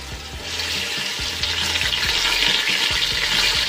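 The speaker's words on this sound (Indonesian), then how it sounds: "Ini jika minyaknya sudah mulai panas, kita masukkan bumbunya. Kemudian kita masukkan serai, kayu manis, dan daun salam." Spice paste, lemongrass, cinnamon and bay leaves fry in hot oil for Betawi soup, giving a loud, steady sizzle with repeated scraping stirs of a utensil in the pan and no talking.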